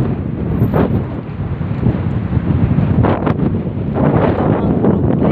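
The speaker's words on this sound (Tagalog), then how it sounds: "Sobrang hangin." Strong wind buffets the microphone on an island, a steady loud roar with gusty swells throughout and no voices.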